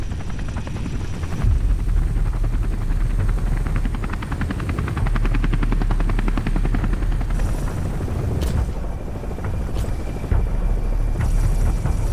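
A Halo Falcon rotor aircraft flies in a fan-made animation, giving a loud, continuous, thudding rotor roar that holds steady throughout, with no speech over it.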